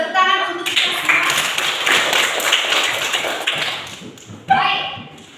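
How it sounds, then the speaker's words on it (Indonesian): Students in a classroom lesson on economics clap their hands together for a few seconds, a brisk burst of applause between stretches of a teacher's speech. "Tepuk tangan untuk kita semua."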